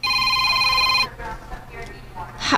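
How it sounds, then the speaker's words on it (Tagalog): A telephone rings with a steady electronic tone for about a second inside a moving vehicle carrying passengers, then stops as a voice speaks briefly amid road noise. "Kadit, si Bong, nanawag"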